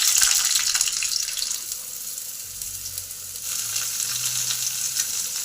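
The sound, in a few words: potatoes and beans added to hot oil, frying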